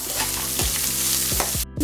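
Curry leaves, dried chillies and chopped onion frying in a pan, loud steady sizzle with several quick stirring scrapes at a fairly even rhythm, cutting off abruptly near the end.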